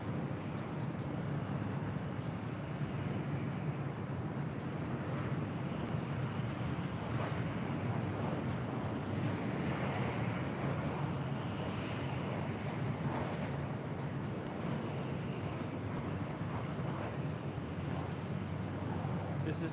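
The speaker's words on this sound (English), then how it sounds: "It's a 2-year-old 777 freighter." DHL Boeing 777 freighter jet at LAX, a broad continuous roar of engine and wind, fairly faint and distant, holding steady throughout with a voice speaking over it.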